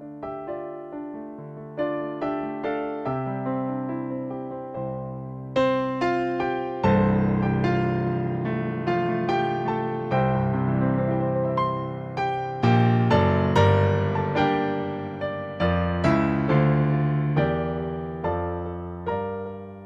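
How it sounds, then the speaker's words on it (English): A Yamaha P145 digital piano plays its CFIIIS concert grand piano sound in a solo piece, with struck notes and chords forming a flowing melody that grows fuller and louder midway. No talking. "I'm going to begin by playing a piece of music using the first sound you hear when you power on the P145,"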